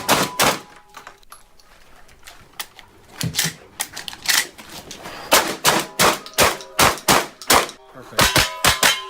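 Gunshots from Keanu Reeves' pistol training at Taran Tactical, fired as sharp cracks in loose bursts that grow faster and denser into a rapid string near the end, moderately close, with quieter background sounds between.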